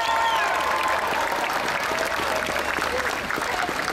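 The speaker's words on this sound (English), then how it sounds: "give a huge round of applause to Barbara Kendall" A large audience at a ship naming ceremony for the superliner Pacific Pearl claps loudly and steadily for Barbara Kendall, with some crowd murmur and a few faint voices underneath.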